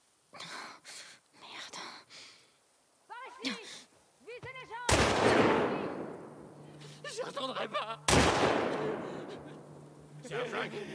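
Gunfire in the video game The Last of Us Part II: two loud, sharp shots several seconds apart, each with a lingering rumbling tail, set among quieter game sounds and voices talking.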